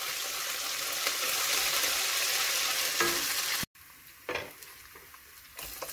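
Garlic frying in a pan for a crab and plantain sauté, a loud continuous sizzle with stirring scrapes that cuts off abruptly, then quieter frying with a few spatula knocks.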